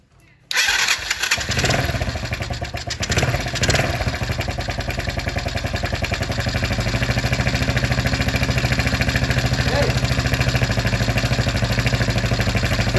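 A cheap Chinese ATV engine is started after a brief quiet moment, catching quickly and settling into a steady, loud, close-up idle that runs evenly for the rest of the clip.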